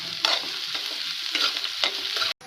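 Two sliced onions and four long-cut green chillies sizzle in a pan for brinjal curry, a steady close frying hiss broken by several scraping stirs, then a sudden cut.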